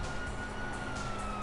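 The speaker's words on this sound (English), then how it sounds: "Siren!" Police car siren in the video game GTA 4, a steady wailing tone held throughout at moderate level with low engine and street noise beneath, no talk.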